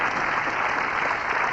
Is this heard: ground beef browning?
no